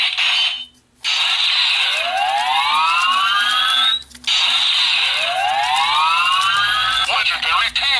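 Power Rangers Ninja Steel Power Star toy giving off loud electronic effects: two bursts of rising, siren-like whooping sweeps over a bright buzzy tone, separated by short gaps.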